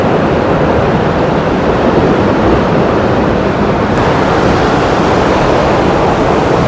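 Water rushes steadily through an irrigation separator, a constant loud broadband roar with no pauses, close to the microphone and without any voices.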